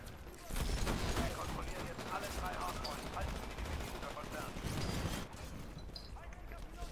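An automated turret gun in the shooter Titanfall fires sustained rapid bursts of automatic gunfire, loud and dense through most of the stretch, with a player talking over the shooting.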